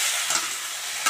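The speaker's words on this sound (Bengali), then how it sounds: "এবারে আমি হলুদ দিয়ে দিই। দিয়ে এটাকে ভালো করে আমি নাড়িয়ে দিই।" Vegetables frying in a pan after turmeric is added, a steady hiss of sizzling close up with a couple of brief scrapes from stirring, no voices.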